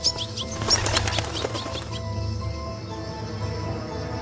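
Forest birds flap their wings in a cartoon with quick, close fluttering bursts over the first two seconds, a faint chirp mixed in, then a steady quiet background.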